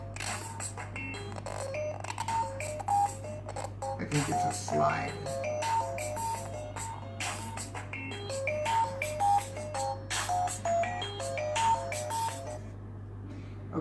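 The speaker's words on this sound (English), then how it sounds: "Some alarm is going off on one of my phones." A phone alarm plays a repeating electronic melody of bright beeping notes over a steady low hum, with a person speaking over it.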